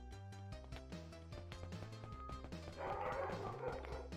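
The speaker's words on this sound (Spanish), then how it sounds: "Los perros que ladran" Dogs barking in quick yips and bow-wows over loud game music and effects during a Free Fire custom match, the barks short and repeated, mixed in with the soundtrack rather than standing alone.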